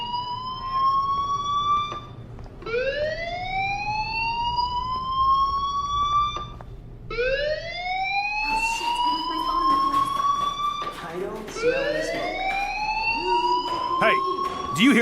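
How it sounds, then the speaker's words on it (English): A school fire alarm in the Life is Strange game wails in repeated rising sweeps, loud and steady throughout, with a few voice-like sounds mixed in over the later part. "do you hear that fire alarm?"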